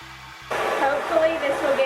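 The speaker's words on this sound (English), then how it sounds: "I'm gonna go ahead and flip my hair over and diffuse the underside of my root" A hair dryer fitted with a diffuser switches on and blows a steady, breathy whoosh while drying wavy hair flipped upside down, running close and even after a quiet start.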